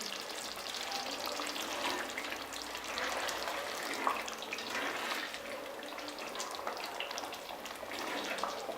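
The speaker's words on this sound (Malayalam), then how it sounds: "നമുക്കിത് ഇടയ്ക്കൊന്ന് ഇളക്കി കൊടുക്കണം." Kerala duck curry cooking in a pan, a steady bright bubbling sizzle with faint stirring scrapes, close but quiet throughout.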